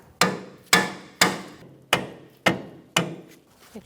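Six evenly spaced sharp metallic hammer taps drive a tie rod into the steering knuckle of a 2014-2019 Kia Soul, each close blow ringing briefly before the next.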